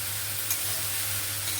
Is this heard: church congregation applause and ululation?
no